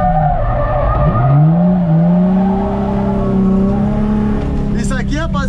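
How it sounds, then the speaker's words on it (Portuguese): Car tires squealing and skidding on a race track as they are warmed up, a loud, sustained, wavering screech over the engine drone, with a voice breaking in near the end. "Só tô dando uma aquecida no pneu."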